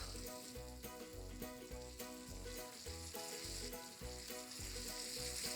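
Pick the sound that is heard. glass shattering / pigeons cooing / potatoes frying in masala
potatoes frying in masala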